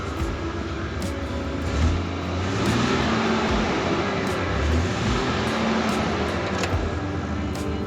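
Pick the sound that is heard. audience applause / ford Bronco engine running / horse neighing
ford Bronco engine running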